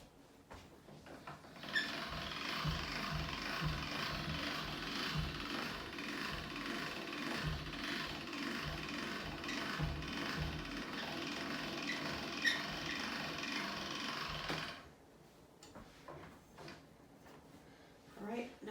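A hand-cranked pasta machine rolls ravioli dough through its rollers, producing a steady close rumbling, clicking grind for about thirteen seconds before stopping, with a voice speaking briefly at the start.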